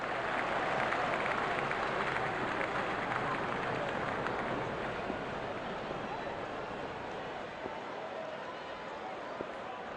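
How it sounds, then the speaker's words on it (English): Steady crowd applause and stadium roar from the Real Cricket video game, a dense continuous wash at moderate level that stays constant throughout with a slight fade toward the end. "The crowd is enjoying every bit of this action."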